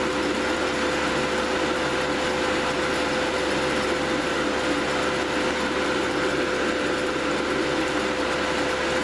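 Cooling fans blow steadily on a GS-35B transmitting tube setup with its heaters on, a constant, fairly loud airy whoosh with no breaks.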